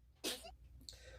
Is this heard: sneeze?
yes